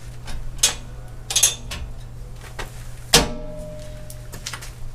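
A spare tire carrier on a Savage Off-Road hybrid rear bumper for a Toyota swinging shut, a series of metallic clinks and rattles ending in one sharp solid clunk, near and clear over a low hum.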